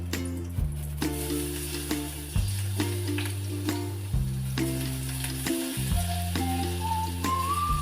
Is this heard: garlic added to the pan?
yes